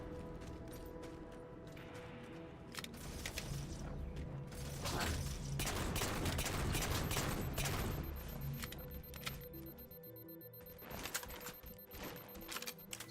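The saw machine gun fires in Halo 4 during a match, a dense rattling stream of rapid shots with mechanical clatter that swells in the middle and thins toward the end.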